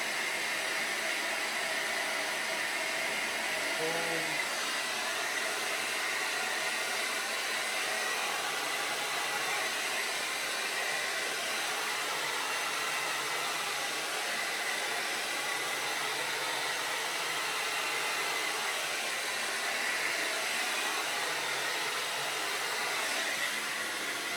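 Hair dryer blowing heat on hair, a continuous, steady, close whooshing roar lasting the whole time with no talking.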